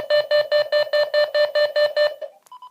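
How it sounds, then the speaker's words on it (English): An Angelcare AC1100 baby monitor alarm beeps loudly in a fast, steady series of about ten identical tones, then stops with a short chime. "Another 5 seconds and the alarm will actually go off."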